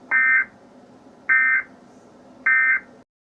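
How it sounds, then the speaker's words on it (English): A school fire alarm sounds in three evenly spaced buzzing bursts, each about a third of a second, loud and harsh, then stops. "I just saw you pulling the fire alarm when there's no fire."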